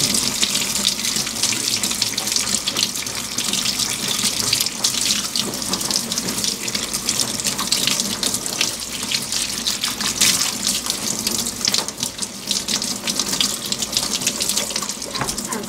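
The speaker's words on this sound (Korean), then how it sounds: "이렇게 살살 흙만 깨끗하게 씻어내고요." Running tap water pours steadily over wild ginseng root as soil is gently rinsed off in a sink. The flow is loud, close and continuous throughout, with a slight splashing texture.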